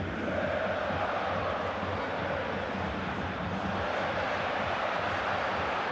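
Away football supporters at a stadium during a Crvena Zvezda v Manchester City Champions League match fill the air with a continuous, distant roar of crowd noise and applause.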